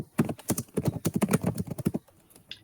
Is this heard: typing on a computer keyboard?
yes